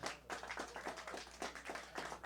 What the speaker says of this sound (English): Big round of applause for that boy, please.